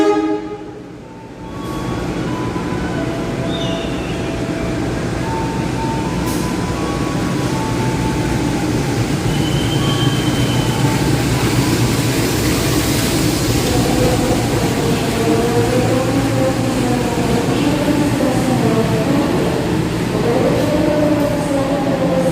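Gaya Baru Malam Selatan passenger train with a vintage-livery locomotive enters the station, a loud, steady rumble of rolling cars and wheels with tonal horn and squeal traces layered over it, no voices.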